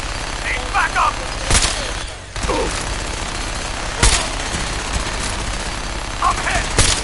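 Gunfire in the Fallout 4 Brotherhood of Steel battle: sharp shots and bursts crack out at intervals over a constant roar of combat noise, with shouted voices in between.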